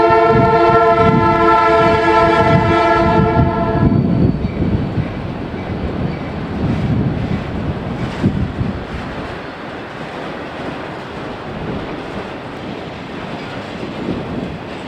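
Train 517 runs on the B&OCT railroad near Barr Yard, opening with a loud sustained horn blast before the heavy rumble and roar of passing cars and wind buffeting carry on steadily.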